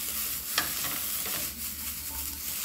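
Ground meat sautéing for nacho topping in a little oil, a steady close sizzle with a few scrapes and stirring taps, no talking.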